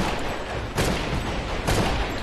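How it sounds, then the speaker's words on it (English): A rifle fires very rapidly in the dinosaur game Primal Carnage Extinction, a continuous rattling stream of shots with two sharper surges, loud and close with no talking. "Watch the firing right now."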